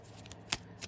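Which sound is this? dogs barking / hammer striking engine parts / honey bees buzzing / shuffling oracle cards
shuffling oracle cards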